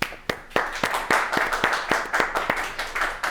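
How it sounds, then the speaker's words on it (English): Audience clapping after a birthday song at a televised courtroom show, a dozen sharp claps in a steady rhythm, close and fairly loud, with no talking over them. "We're gonna clap for that."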